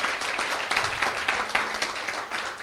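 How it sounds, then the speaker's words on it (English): A small audience applauds a group of first-time newcomers at a gathering, with a quick, uneven clatter of hand claps at moderate volume. "shall we give all these new friends a round of applause?"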